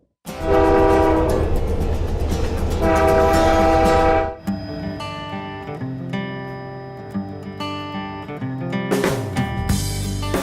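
A Canadian passenger train passes with a loud, sustained horn blast, then rumbling rail noise and clanking wagons continue at a steadier, lower level.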